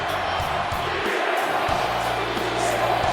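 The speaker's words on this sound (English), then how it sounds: "Listen to the crowd, Mark." A large wrestling arena crowd roars and cheers continuously, a dense wash of voices with rhythmic chanting pulses underneath.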